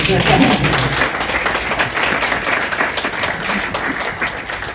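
Steady applause from a crowd fills the whole stretch, dense and continuous clapping at fairly loud level.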